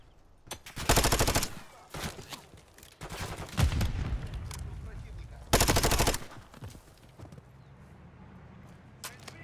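Bursts of automatic gunfire from the video game Call of Duty Modern Warfare 3: two long, loud rattling volleys with shorter shots and rumbling between them, closing on a quieter stretch of ambient battle noise.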